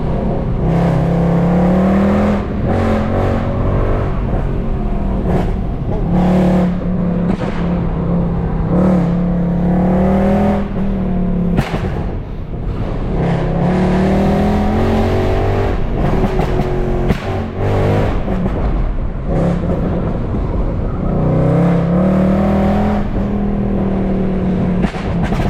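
A Mercedes C63 AMG engine revs hard and repeatedly on a winding road, rising and falling in pitch with loud roaring surges throughout, no voices.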